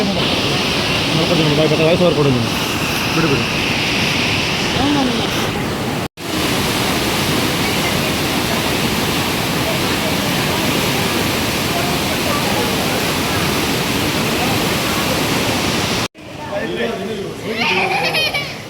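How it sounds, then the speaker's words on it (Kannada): A strongly flowing river rushes past the Kateel Durgaparameshwari temple in a steady, loud broadband roar that fills the whole stretch, with people and children talking over it near the start and end. "ಆ್ಯಕ್ಚುಲಿ ನೀವು ನದಿ ಹರಿತಿರೋದು ನೋಡಿ, ಎಷ್ಟು ಜೋರಾಗಿ ಹರಿತಾ ಇದೆ."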